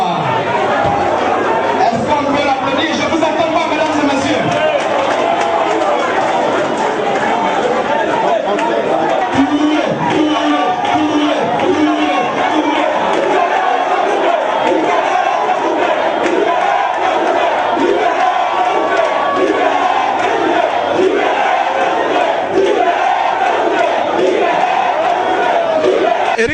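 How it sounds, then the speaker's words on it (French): A crowd rises in a standing ovation for M. Touré at a commemorative day gathering, a continuous wash of cheering, shouting and chatter with voices mixed through it. "Est-ce qu'on peut se lever, ovationner M. Touré au moment, voilà, au moment où il nous dit au revoir. Est-ce qu'on peut l'applaudir?"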